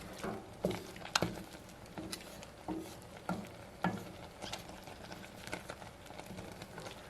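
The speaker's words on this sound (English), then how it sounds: "you can just start pressing them with your spoon or your spatula against the edge of your pan" Cranberries with splitting skins pressed with a spoon against the edge of a simmering pan, giving soft irregular squishing, scraping and light bubbling, faint and close.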